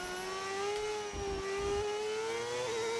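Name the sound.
modded V8 engine of Porsche F1 car in F1 25 video game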